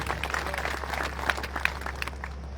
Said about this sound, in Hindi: तो भील समाज के लिए एक बार ताली जोर से।